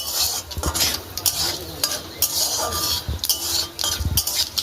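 Mango chutney being stirred and fried in a pan after a tempering of dry chillies and mustard, with steady sizzling under repeated scraping and clinks of a utensil against the pan, close and fairly loud.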